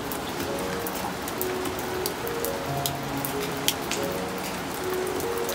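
Steady rain patters outdoors on potted succulent plants, a dense, even hiss with scattered sharper drop taps throughout and no voices.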